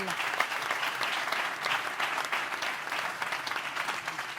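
Audience applause at a sports respect forum event, steady dense clapping from a seated crowd throughout, moderately loud and continuous without pause.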